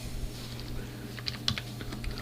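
Rapid keystrokes clatter on a computer keyboard in a short close burst of uneven taps over a low steady hum.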